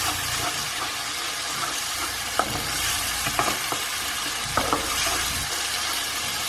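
Tomato paste for a chickpea curry cooking in a pan, a steady sizzle and hiss with occasional stirring scrapes and pops, close and continuous with no talk.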